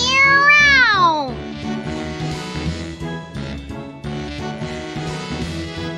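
A character's voice imitates a cat's meow in the Tales of Berseria video game, a drawn-out rising and falling meow followed by other characters talking over soft background music.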